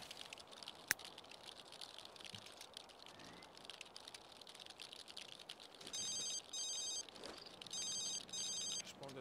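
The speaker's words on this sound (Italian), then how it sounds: "Risponde il telefono." Electronic telephone ringing from The Sims 3 video game sounds in two bursts of repeated trilling rings, moderately loud against a quiet, faint game background, after a single sharp click.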